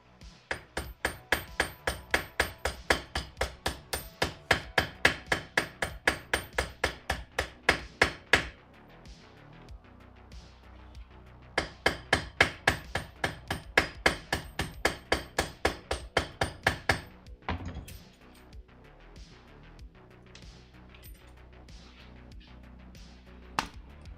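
Rivets are hammered into leather in two long bursts of sharp, evenly spaced blows, with a quieter, sparser stretch of taps between them and another after the second burst. The strikes are close and loud, and no one talks.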